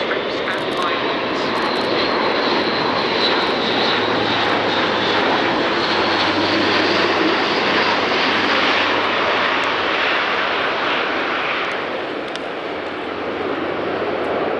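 A Luftwaffe Airbus A400M Atlas military turboprop roars through a flying display at an air show, a loud, sustained broadband engine and propeller drone that holds steady throughout while a commentator talks over it.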